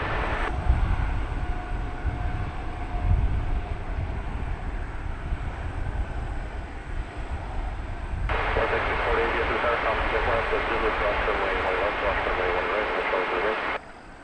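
American Airlines airliner landing at DFW airport at night: a faint engine drone swells into a broad, steady jet roar about halfway through and holds until near the end, with radio voices talking over it.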